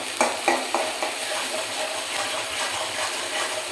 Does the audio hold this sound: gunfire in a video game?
no